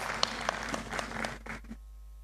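Brief scattered applause from an audience at the NSSF annual members' meeting, a short burst of claps that fades out after under two seconds, leaving quiet.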